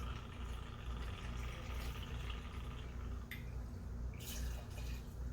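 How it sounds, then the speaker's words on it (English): Duke's Bourbon is poured for a cocktail, a soft, quiet trickle of liquid into a glass over a low room hum, with a couple of brief brighter splashes. "2 ounces, of course, of Duke's Bourbon."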